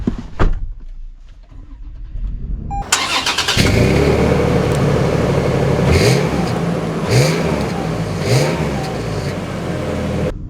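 A 2024 Toyota 4Runner TRD Off-Road starts up and pulls away, the engine catching with a sharp burst, then rising through several rev climbs and gear changes, close and loud with no talk.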